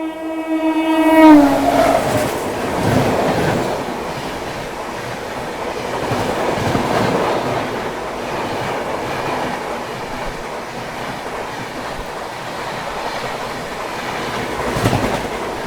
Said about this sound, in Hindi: यहाँ पे हमें CR राजधानी एक्सप्रेस ओवरटेक करने वाली है, जो कि इंडिया की एकमात्र पुश पुल टेक्नोलॉजी से चलने वाली राजधानी एक्सप्रेस है।